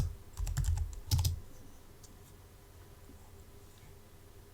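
Code being typed on a computer keyboard, two short runs of soft keystroke clicks close by with low thumps, followed by near silence and a faint click or two.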